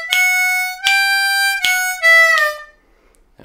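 Blues lick on a D harmonica: a few sustained reedy notes in a shuffling rhythm, the last bent down on the 4 draw, played close and alone before fading into quiet.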